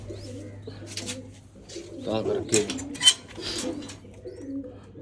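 Pigeons coo in soft, throaty, repeated calls nearby, with a few brief spoken words mixed in and a low steady hum underneath.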